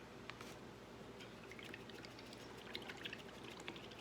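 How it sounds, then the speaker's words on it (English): A paint brush being rinsed in a cup of water during pottery glazing, faint soft trickling and swishing with small splashes, quiet and close. "I'm rinsing out my brush"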